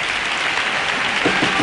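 Theatre audience at the Gran Teatro Falla in Cádiz applauding a chirigota, a dense, steady wash of clapping from a large crowd, loud and continuous throughout.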